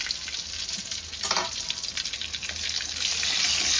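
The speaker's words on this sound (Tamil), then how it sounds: "அது வரைக்கும் நல்லா எண்ணெயிலே வந்து இதை பொரிச்சிக்கலாம்" Green chillies fry in hot oil with a dense, close sizzle that swells toward the end, carrying a brief burst of spattering partway through.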